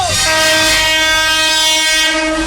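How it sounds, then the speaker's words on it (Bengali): A train rolls in with a steady, loud rumble and a sustained horn-like tone, wheels and carriages droning close by without any voices. "ওই তো ট্রেন ঢুকে গেছে"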